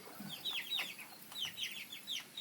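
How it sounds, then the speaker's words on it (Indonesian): Chickens cluck and chirp in short, repeated bursts at close range, a busy, steady chatter of several birds. "ini ayam-ayam makan dengan lahap"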